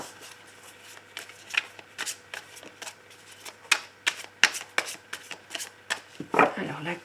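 Tarot cards are cut and shuffled close up, a run of soft, quick card flicks and riffles with irregular rhythm, ending in a louder clack, under a quiet room.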